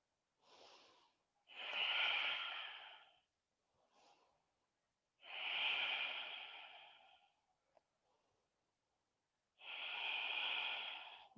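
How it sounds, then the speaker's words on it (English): Deep, slow breaths during a yoga class: three long, loud inhale-exhale swells with short quiet gaps between them, close and alone, with no talking. "and just breathe"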